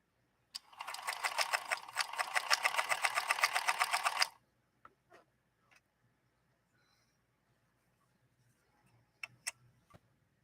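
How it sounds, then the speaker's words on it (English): 1958 Singer 222K sewing machine stitching cotton with a harpoon needle: a fast, even mechanical chatter of stitches for about four seconds, then a few faint clicks and handling taps as the machine stops, nearby and quiet. "we're sewing with a harpoon needle"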